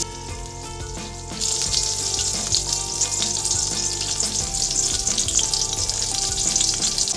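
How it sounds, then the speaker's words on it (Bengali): Eggplant pieces frying in hot oil with a little turmeric and salt, a steady close sizzle that jumps louder after the first second and keeps crackling, with faint stirring clinks in the pan. "বেগুনগুলোকে সাঁতলানোর সময় সামান্য হলুদ গুঁড়ো দিয়ে দিচ্ছি"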